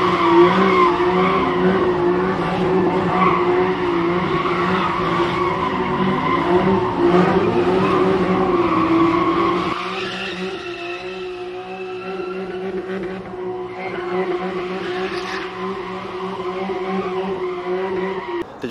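A car drifts in Oxnard, California, its tires squealing and skidding in long, loud, wavering screeches over a revving engine, easing briefly midway before the squeal resumes.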